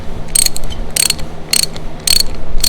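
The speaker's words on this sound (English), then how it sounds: "Harley Davidson oil filter wrench." A Harley-Davidson oil filter wrench loosens the oil filter on a 2024 Road Glide, giving four short, sharp bursts of ratcheting clicks spaced about half a second apart, loud and close.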